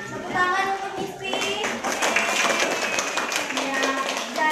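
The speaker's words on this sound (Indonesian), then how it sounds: "Tepuk tangan untuk Mipi." Grade 4 primary school pupils in a classroom clap for a classmate, a short burst of scattered, uneven handclaps close by, mixed with children's voices talking over it.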